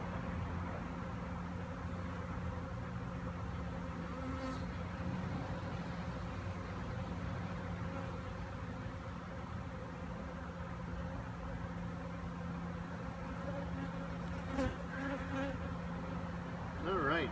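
Honey bees buzz around frames of an open hive, a dense steady hum that fills the whole stretch at moderate level, with a few individual bees passing close near the end.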